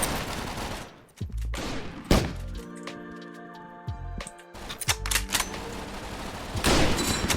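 Mosin bolt-action rifle in the free World War II PvP shooter Frontline Inferno: a few loud, spaced shots, each with a sharp crack and echoing tail, mixed with other distant gunfire and brief metallic clicks.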